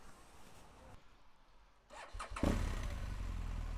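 A motorcycle engine starts up and settles into a steady idle, rising from quiet outdoor ambience near a bus station in wet weather; the engine is close and fairly loud, with no talking.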